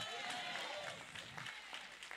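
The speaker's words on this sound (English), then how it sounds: "And keep on clapping for our minstrels." Congregation at an evening Bible study in a Chicago church applauding its worship leaders: steady, dense clapping from a crowd that fills the whole stretch and fades slightly toward the end.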